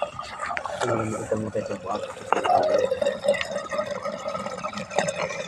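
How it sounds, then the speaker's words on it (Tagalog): Water from a rice paddy drains into a pipe buried in the soil. It gurgles and trickles continuously while someone talks over it. "Ito po ay isang butas na kung saan hinihigop na yung tubig sa ibabaw."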